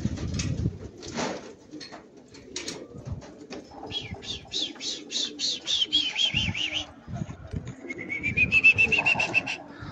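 Pigeons on a rooftop coo repeatedly in soft, rolling calls, with brief chirps and a short flutter of wings mixed in, fairly close and steady over the whole stretch.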